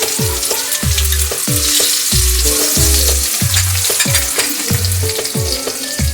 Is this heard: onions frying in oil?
yes